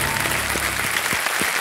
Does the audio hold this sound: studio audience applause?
yes